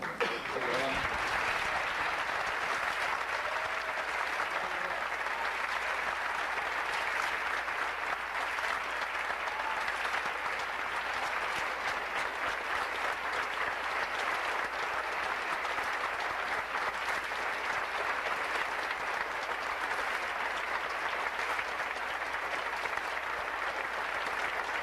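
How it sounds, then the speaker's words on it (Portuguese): Long, continuous applause from a large church audience in Rio de Janeiro, a dense steady roar of clapping that swells in quickly and holds evenly for over twenty seconds. "Quero que você receba agora um aplauso que só carioca é capaz de dar."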